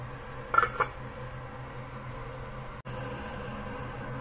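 A lid is set onto a pot of fish head soup with glass noodles and mixed vegetables: two quick metallic clinks close together near the start, then only a low, steady background hum.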